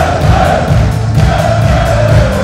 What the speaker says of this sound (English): The crowd are happy, they're dancing.